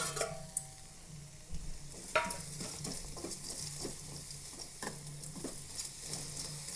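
About 150 grams of chopped ginger crackles and sizzles softly in a pan while being stirred and dry-roasted, with repeated scraping strokes under a continuous hiss.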